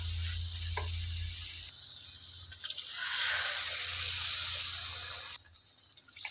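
Water is poured steadily into a chicken liver masala curry, a continuous hissing splash growing louder midway and then easing, with a faint low hum underneath.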